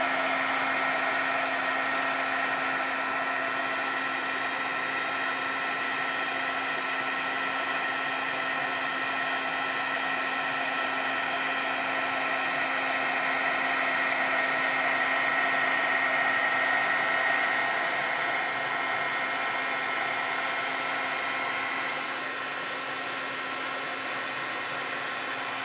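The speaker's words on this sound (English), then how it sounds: "I'm just holding my heat gun a little higher here, kind of moving it as I'm heating it" A heat gun blows continuously at close range while heating embossing powder on vellum, a steady roaring whoosh with a constant tonal whine that barely shifts for nearly half a minute, softening slightly toward the end.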